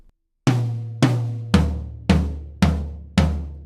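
Six booming tom hits, evenly spaced and ringing out, played alone with a short silence before the first.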